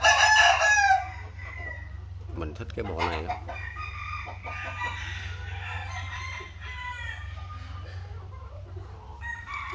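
A fighting rooster crows loudly at the start, followed by softer clucking and shuffling as someone talks nearby.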